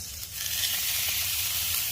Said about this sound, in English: Here goes that sizzle.